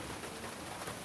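Heavy rain pours down around a trail shelter in the 100 Mile Wilderness on the Appalachian Trail, a steady dense hiss of drops drumming on surfaces with no break and no voices.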